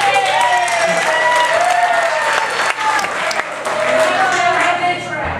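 Comedy club audience breaks into sustained, loud applause, dense clapping filling the room for several seconds, with scattered voices and cheers mixed in.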